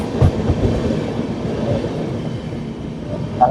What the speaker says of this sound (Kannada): ಒಂದರಿಂದ ಒಂದು ಪಾಸ್ ಆಗತ್ತಾವ ಈ ಕಡೆ ಅಂತೂ ಟ್ರೈನ್